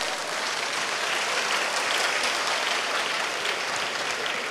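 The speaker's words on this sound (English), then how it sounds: "Let's give him a round of applause." A dense, even round of applause from the audience at a fund-raising dinner greets an arriving guest, sustained and fairly loud with no voices over it.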